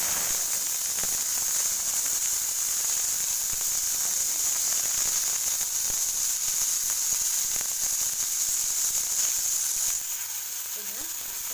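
Mustard seeds and fenugreek seeds sizzle in hot oil with a steady, bright hiss and faint crackles, continuous and fairly quiet, easing slightly near the end.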